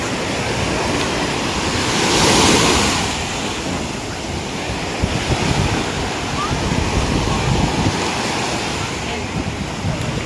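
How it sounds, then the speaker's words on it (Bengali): Steady wash of Black Sea surf close by at Varna, Bulgaria, with a swell of breaking wave early on, wind buffeting the microphone throughout. "কালকে থেকে আজকে ঢেউ বেশি"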